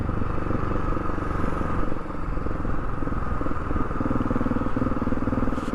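A light motorcycle rolls along at slow speed, its engine giving a steady, moderately loud hum that holds through the whole stretch with a faint clatter underneath.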